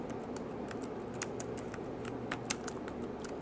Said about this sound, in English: Well, maybe I'll type this here.